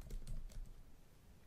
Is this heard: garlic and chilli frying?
no